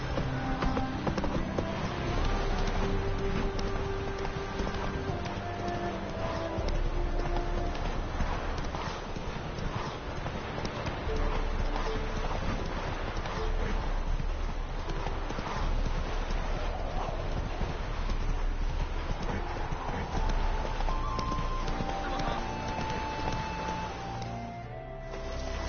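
Roach the horse gallops in The Witcher 3, with hooves clip-clopping in a steady, continuous rhythm for the whole stretch, close and prominent over game ambience, and a brief sound near the end.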